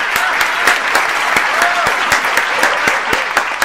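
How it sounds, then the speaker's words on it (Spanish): Applause sound effect: a dense, continuous burst of many hands clapping with crisp individual claps, loud and close, with faint voices mixed in. "Así que un aplauso para ustedes."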